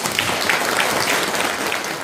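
Audience applause at the opening of an invited guest lecture on maritime and fisheries matters, a steady dense patter of clapping filling the hall for about two seconds.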